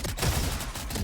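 Rifle fire in Valorant comes as a short, loud, dense burst of rapid shots with heavy low thumps, filling the whole brief moment with no talk.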